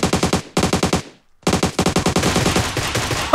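Rapid automatic gunfire in PUBG Mobile crackles close and loud in two quick bursts, a brief silence, then a longer sustained stream of shots ending in a sharper burst.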